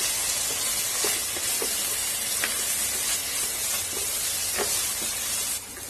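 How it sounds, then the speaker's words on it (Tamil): Green chillies sautéing in hot oil for chicken biryani, giving a steady close sizzle with a few light stirring clicks and no talk. "இது கூடவே இந்த 3 பச்சை மிளகாவும் சேர்த்துக்கிறேங்க. இது இதோட சேர்த்து வதக்கி விட்டுருங்க."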